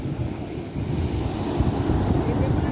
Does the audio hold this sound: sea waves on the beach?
yes